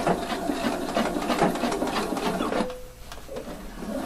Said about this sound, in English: Now sew it 1 centimeter from the folding up front